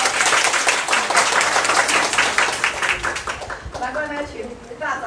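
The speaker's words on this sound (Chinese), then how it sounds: "来给他一个掌声。" A meeting audience bursts into loud, sustained clapping and applause in a room, many hands at once, with voices carrying over it as the clapping thins out toward the end.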